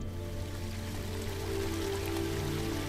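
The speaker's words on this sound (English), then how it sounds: "And you can hear a stream somewhere." A trickling stream sounds as a steady, soft wash of running water, continuous and fairly even, with a faint hum underneath.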